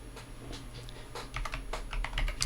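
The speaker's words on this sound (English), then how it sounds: "Type Bastille and hit enter." Close, crisp typing on a computer keyboard while running BastilleBSD commands, a quick irregular patter of keystrokes growing slightly louder toward the end, with no talk.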